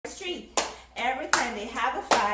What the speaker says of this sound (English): You clap, clap.